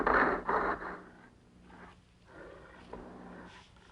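Big cats roar and snarl in a scene from a 1960s horror film, loud growling bursts opening the clip and then rumbling again more faintly, with no talking.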